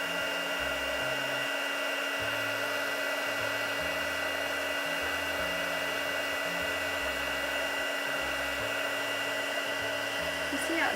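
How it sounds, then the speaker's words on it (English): Heat tool blowing a steady stream of hot air over resin, a constant close whooshing hum with a fixed whine that runs unbroken the whole time. "then we'll bring in our heat tool"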